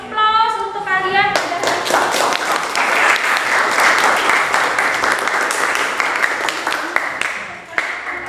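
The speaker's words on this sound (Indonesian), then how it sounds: "Kita beri aplaus untuk kalian" A classroom of students claps in sustained, dense applause that starts abruptly after a brief spoken phrase and stays loud and even for several seconds, with scattered voices mixed in.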